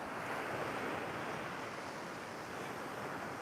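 Rough sea waves wash steadily onto a beach at Sam Roi Yot, Thailand, a dense continuous roar of surf with some wind, loud and unbroken.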